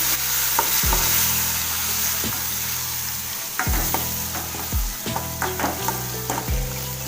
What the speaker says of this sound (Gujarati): હવે તેમાં જે આપણે ટમેટા લીધેલા છે તે એડ કરીશું હવે તેને આ રીતના હલાવી લઈશું